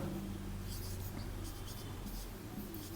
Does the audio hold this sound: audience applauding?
no